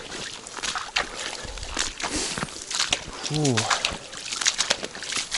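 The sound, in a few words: footsteps squelching through a swamp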